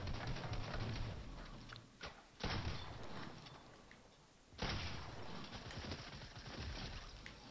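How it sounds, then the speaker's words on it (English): Gunfire in a Sekiro: Shadows Die Twice game reworked to play like Fortnite, heard as dense bursts of shots and blasts with brief lulls between them, loud and close. "Somebody's shooting at me."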